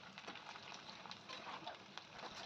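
Baby potatoes frying in oil in a wok, a steady dense sizzle with small crackles and pops throughout, fairly quiet and even, no voices.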